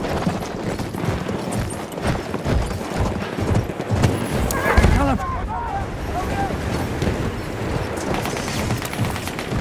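A horse gallops in a video game battle set against the Ottoman Empire, with loud, rapid rhythmic hoofbeats, a brief whinny midway and game voices and clamor mixed in.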